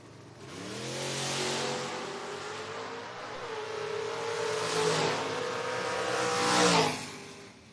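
Footbrake drag racing cars, including a 1994 Ford Mustang, launch together with loud, sustained revving engines that climb and shift in pitch as they pull away.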